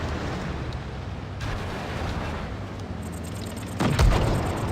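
Cromwell tank cannon firing in a video game tank match, a single heavy boom near the end rising out of a constant rumbling battle din.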